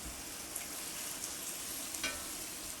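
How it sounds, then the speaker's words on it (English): Onions fry in a pot for a zucchini soup, with a steady, faint sizzle and a few light stirring scrapes against the pot, heard alone without talk. "Give it a minute and then you're going to put the onions in."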